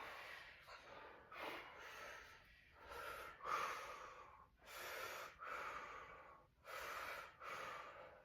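Slow deep breaths during a neck stretch, with the head turned to look over the shoulder: long, airy inhales and exhales in a steady rhythm, close and soft, with no talking.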